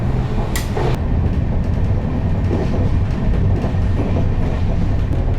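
An Indian Railways first-class train runs through the night with a continuous low rumble and rhythmic wheel clatter. A few brief rattles and knocks from the carriage come through, with no voices.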